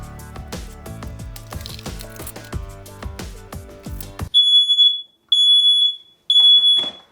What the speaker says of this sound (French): j'ai dû débrancher l'alarme incendie, elle m'a explosé les oreilles